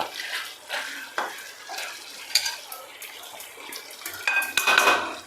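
A spoon scrapes and clinks against a pot while chicken curry with coconut is stirred, with repeated metallic knocks and sizzling between strokes and a louder clatter near the end.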